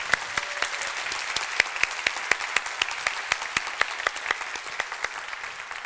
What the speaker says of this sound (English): Shall we have another round of applause for that